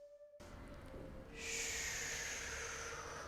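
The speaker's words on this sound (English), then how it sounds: "taking a big breath in" Close by, a person draws in a big, deep breath, a soft airy rush that swells and holds for a couple of seconds after a brief silence.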